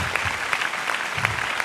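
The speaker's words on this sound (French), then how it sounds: "est-ce que vous pouvez applaudir très fort ces jeunes?" At a conference on giftedness, an audience gives the young people a brisk, steady round of applause with some close, sharp claps and no speech.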